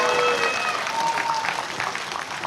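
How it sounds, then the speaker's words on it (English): A press conference crowd applauds boxer Lamont Roach at his introduction for the Tank Davis fight in DC, with a dense, steady wash of clapping and a few voices rising through it at the start. "Clap it up."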